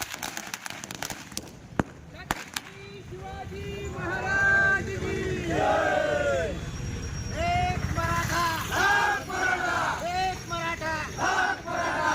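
A large crowd of the Maratha community celebrates at Chhatrapati Shivaji Maharaj Chowk in Digras, with loud, sustained chanting and shouted slogans from many voices, rising and falling close by amid a general roar.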